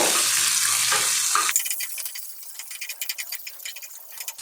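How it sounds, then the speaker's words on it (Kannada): Lengthwise-sliced onions and finely cut curry leaves fry in a pan for North Karnataka-style avalakki uppittu: a loud, full sizzle for a second and a half, then an abrupt drop to quieter, irregular clicking and scraping of stirring. "ಈಗ ಇದಕ್ಕೆ ಉದ್ದುದಕ್ಕೆ ಹೆಚ್ಚಿರುವಂಥ ಈರುಳ್ಳಿ ಹಾಕೋತಿದ್ದೀನಿ. ಚೆನ್ನಾಗಿ ಫ್ರೈ ಆಗಬೇಕಿದು."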